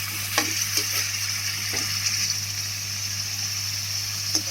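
Egg masala gravy fries and sizzles steadily in a pan, a constant bright hiss with a low hum beneath and a few soft clicks of stirring, no talking.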